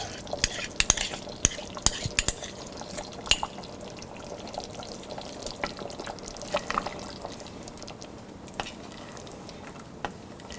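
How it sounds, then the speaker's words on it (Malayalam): Mutton stew gravy with cashew paste stirred in a pot: quick clinks and scrapes of a spoon against the pan, busy at first, then slower and quieter over a faint bubbling background. "നമ്മൾ എടുത്തു വച്ചിരിക്കുന്ന കാഷ്യൂ പേസ്റ്റ് ആഡ് ചെയ്ത് നന്നായിട്ട് മിക്സ് ചെയ്യുക"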